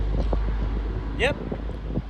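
Steady wind rushes and rumbles against the microphone, with a brief rising squeal near the middle.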